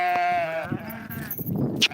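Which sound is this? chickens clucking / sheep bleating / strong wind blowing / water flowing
sheep bleating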